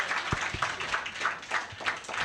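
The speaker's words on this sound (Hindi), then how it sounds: "ताली बजाएं तो बिल्कुल बढ़िया वाला बजना चाहिए" A church congregation claps along in scattered, rhythmic bursts, a soft steady patter with a few heavier low thumps at moderate distance.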